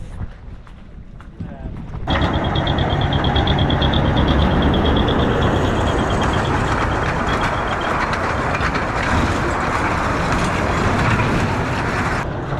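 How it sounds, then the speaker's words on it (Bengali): A toy train rumbles and clatters continuously beside a walkway in Mumbai, loud and close, with rhythmic wheel noise and voices mixed in. "তো এটাই সেই টয় ট্রেন যেটার কথা বলছিলাম।"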